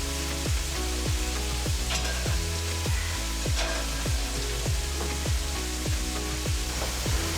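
Curry sauce sizzles and fries steadily in a pan while being stirred, with rhythmic low scraping strokes repeating roughly every half second over a constant close bubbling hiss.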